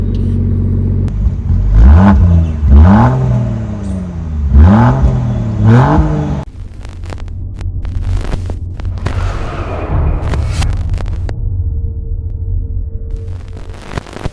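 A modified Land Rover Defender with its exhaust valves open revs hard several times in quick succession, each deep, booming rise and fall close and loud, then settles into a lower rumbling throb with mechanical whirring.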